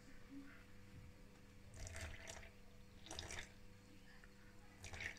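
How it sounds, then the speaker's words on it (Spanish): About 20 grams of water is poured into a flour-and-water sourdough starter on its fourth day, sounding as short splashy bursts of trickling liquid, close and moderately loud over a low room hum. "Y le ponemos 20 gramitos también de agua"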